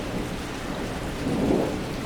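A heavy rain storm pours down in a dense, continuous hiss, with a low rumble of thunder swelling briefly near the end, loud and close with no voices.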